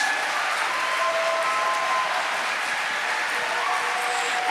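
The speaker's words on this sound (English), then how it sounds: "please give them another huge round of applause" Dense, steady applause from a crowd at a festival program launch, sustained evenly throughout with no voices standing out.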